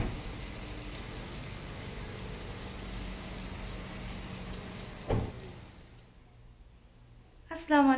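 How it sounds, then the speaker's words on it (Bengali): Steady rain falls on outdoor surfaces as a soft, even wash of patter. A knock sounds midway, the rain briefly quiets, and a voice begins speaking at the very end. "তাই চিন্তা করলাম আমি একটু আপনাদেরকে বৃষ্টি দেখাই"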